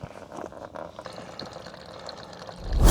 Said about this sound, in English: we're going to do is start draining it till we empty it completely out